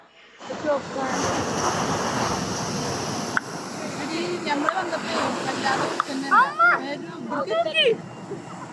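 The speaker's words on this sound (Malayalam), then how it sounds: "തിരമാലക്കൊക്കെ ഭയങ്കര ശക്തി ഉണ്ട്" Strong ocean waves crash against the shore in a continuous, loud roar with wind buffeting the microphone, and voices break in briefly near the end.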